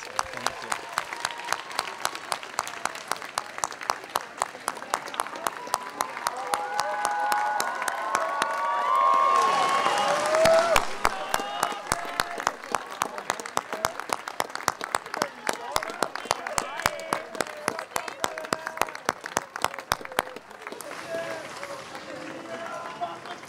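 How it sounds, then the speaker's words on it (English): Commencement audience of parents, grandparents and guardians gives a steady round of applause, swelling into a louder peak of clapping midway before tapering off. "I'd like to have a round of applause for all the parents"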